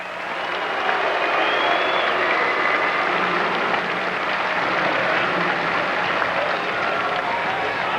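Sustained applause from a large crowd at the New York Rangers' 1994 Stanley Cup championship parade, steady dense clapping that fills the space for several seconds, loud and even throughout.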